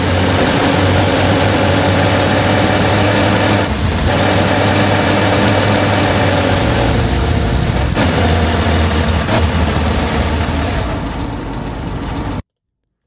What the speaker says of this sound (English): the longer that I leave this on accelerate, the higher the revs continue to go